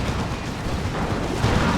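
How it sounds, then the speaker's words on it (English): Rocket run explosions in the Warhammer 40k game Dawn of War 2 during a 3v3 match, a dense, continuous rumble of blasts and booms that stays loud throughout with no talking. "There's another rocket run."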